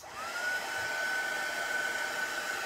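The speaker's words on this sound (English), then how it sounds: "I'm just going to dry this off a little bit" A hair dryer blows steadily over chalk paste on a Christmas vintage truck craft, a constant close whooshing hum with a high whine, alone with no voices.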